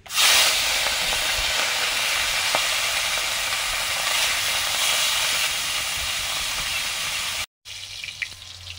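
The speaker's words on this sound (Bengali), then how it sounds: "সরষের তেল দিয়ে দিয়েছি, মাছগুলো ভাজছি" River fish frying in hot mustard oil, a loud, close, steady sizzle and hiss that runs unbroken, then cuts off briefly before faint sizzling resumes.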